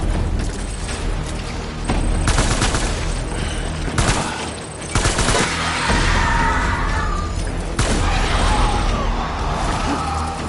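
Gunfire in the video game Death Stranding: loud, dense bursts of shots and booms layered over a rumbling game soundtrack, continuous through the whole stretch with no clear gaps.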